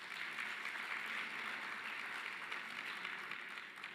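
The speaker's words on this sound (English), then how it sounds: "Can you please give him a round of applause?" Sustained audience applause fills a conference hall at an education sector lekgotla, a dense, steady wash of clapping at moderate level throughout with no pauses.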